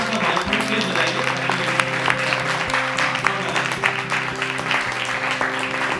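Audience applause at a book event in a lounge at a literature festival, steady clapping filling the room for several seconds over a constant background hum and some mixed voices.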